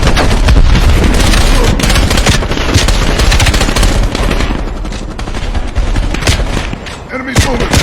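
Call of Duty battle with a grenade explosion amid sustained automatic gunfire, loud and dense throughout, booms and rapid shots layered over one another with shouted voices in the mix.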